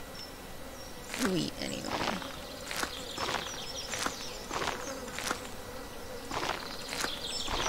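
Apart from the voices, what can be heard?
buzzing bugs in the video game Stardew Valley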